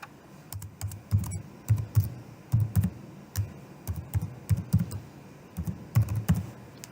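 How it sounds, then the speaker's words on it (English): Keys clack on a computer keyboard in short bursts of typing as login credentials are entered, close and fairly quiet, with irregular pauses between groups of keystrokes and no talking. "Then you type in your credentials to access this database."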